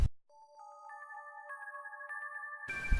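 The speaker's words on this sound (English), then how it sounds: "The ringtone feels ominous." A phone ringtone in a horror video game plays a thin electronic melody of clear repeating tones, quiet and isolated in silence, cut off by a brief burst of noise at the end.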